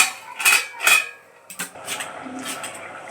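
A metal lid clanks onto a cooking pot of Malvani-style chole masala: two sharp clinks, then softer rattling and scraping of cookware nearby.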